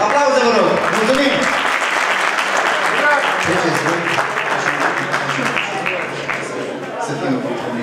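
A crowd at a horse Easter show in Târgoviște applauds a horse and rider, steady clapping that fades slightly toward the end, with chatter mixed in.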